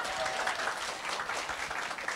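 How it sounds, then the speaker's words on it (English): Dense applause from an audience at a business partners' gathering, a continuous wash of many hands clapping at moderate distance, fairly soft and steady through the short stretch. "let's give her more rounds of applause"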